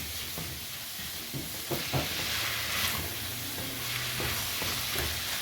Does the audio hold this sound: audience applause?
no